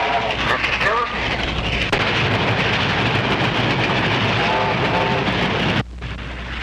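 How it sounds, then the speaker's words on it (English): A steam train passing on the railway in a 1932 film soundtrack, a loud, continuous roar and rumble with whistle-like tones, close and dense, ending in an abrupt drop. "Bob, train about to come by."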